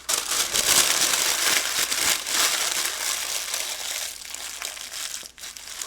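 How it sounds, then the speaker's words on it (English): Parchment paper is crumpled into a ball by hand, giving a loud, close, continuous crinkling and crackling that goes on for several seconds with no voices. "crumble up parchment paper into a ball, then open it back out to make it more malleable"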